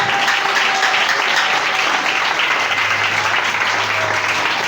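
A church congregation claps and applauds steadily and loudly throughout, a dense, even wash of hands with no break.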